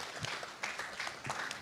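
Audience at a 5.18 citizens' public forum applauds a final presenter, a faint continuous patter of many hands clapping for under two seconds.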